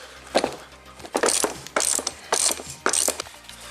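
A socket wrench ratchets in short, evenly spaced bursts of clicking while tightening a bushing press during a suspension overhaul on a Toyota MR2, loud and close, with brief pauses between strokes.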